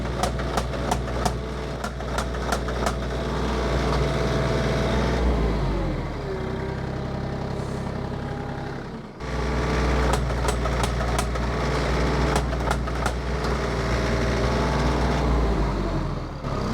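A tractor engine runs steadily and loud nearby during fence post pounding, with sharp repeated metallic hits in bursts, a brief drop in the engine around the middle before it resumes at full rumble.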